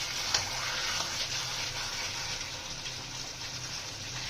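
Water hits frying masala in a pan, a steady, loud hiss of sizzling that holds evenly throughout with a faint sharp spatter near the start.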